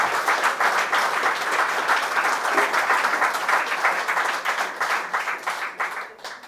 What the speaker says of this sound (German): das verdient wirklich Applaus und eine Anerkennung.